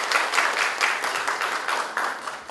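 An indoor audience at a sports federation launch applauding, with dense clapping in several uneven surges that swell and ease over a couple of seconds.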